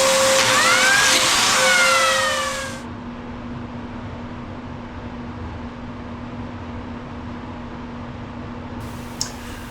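A biscuit joiner cuts slots in quarter sawn white oak planks for glue-up, a loud whining motor burst lasting about three seconds that stops abruptly, leaving a low steady hum and quiet room tone with a faint click near the end.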